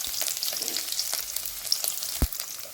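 Onion and garlic fry in hot oil with a bright, crackling sizzle, close up, with one sharp clatter near the end and no talking.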